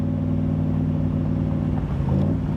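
A Shelby Cobra Superformance MKIII R, a 1965-style roadster, revs its engine with a deep, steady rumble that swells briefly near the end, loud and alone without voices.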